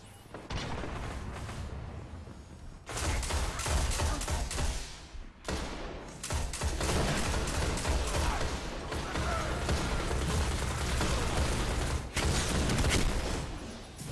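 Continuous gunfire and grenade blasts in a Crucible match of the video game, dense and loud throughout, with a brief lull near the middle.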